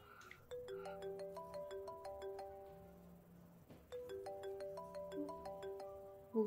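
A cheerful melodic phone ringtone from the Nintendo Switch dating game Motesolo: No Girlfriend Since Birth, plays alone as a repeating chiming tune over a soft low backing pattern, steady and clear for several seconds.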